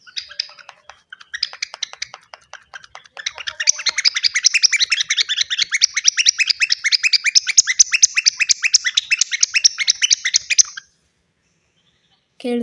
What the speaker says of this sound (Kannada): ಈ ಥರ ಪಾಂಕು ಪಾಂಕು ಅಂತ ಸೌಂಡ್ ಬರುತ್ತೆ ಈ ಟೆಡ್ಡಿ. ಬರ್ಡ್ ಥರ ಇದೆ.